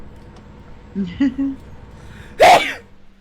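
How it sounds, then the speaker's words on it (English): One sharp, loud sneeze bursts out near the end, set up by a few short breathy catches just before it. Nobody talks around it. "that was a good sneeze right there"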